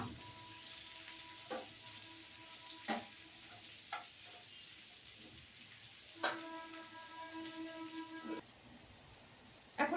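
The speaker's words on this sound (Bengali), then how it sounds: "লঙ্কা কুচি দিয়ে দিচ্ছি এবার এগুলো একটু ফ্রাই করব এখন" Chopped green chillies fry in a pan for chilli chicken, giving a faint, steady sizzle broken by a few sharp clinks of a spoon against the pan and a brief tonal ring partway through.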